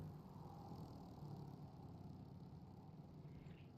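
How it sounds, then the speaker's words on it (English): A racing kart engine in a racing game endurance race bogs down at low speed, a faint, steady, muffled drone that never revs up. "Just hear that engine bogging down."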